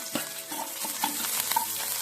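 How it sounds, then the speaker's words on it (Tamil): Small onions and green chilli sizzle in a hot pan, sautéed until brown for rava upma, while a spoon stirs and scrapes repeatedly, close and clear. "எல்லாமே சேர்த்து வதக்குங்க நல்லா ப்ரௌன் ஆகிற வரைக்கும் வதக்கணும்"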